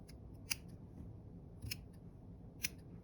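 Scissors snipping weaving yarn while making a plain-weave coaster, three crisp close cuts spaced about a second apart over a quiet room.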